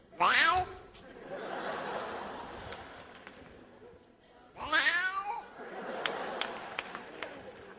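A person imitates a cat's meow on stage at a comedy competition semifinal, with two drawn-out wailing meows, each followed by crowd noise and laughter.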